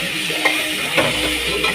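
Onions and tomatoes sautéing in a pan give a steady close sizzle, with a few soft stirring scrapes spaced about half a second apart.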